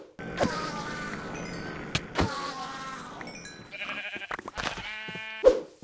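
Sheep bleating repeatedly in modded Minecraft (FTB Unstable 1.14), several loud harmonic bleats overlapping with game sound effects and a sharp whack near the end, no talking.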